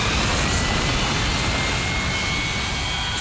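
An aircraft takes off with a loud, continuous roaring engine rush and a faint high whine, filling the whole span close and steady.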